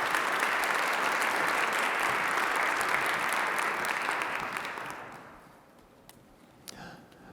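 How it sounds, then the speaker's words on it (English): A large audience at an investiture ceremony applauds in a dense, loud, sustained wash that fades out over the last couple of seconds, leaving a few stray claps. "Let's give them another round of applause"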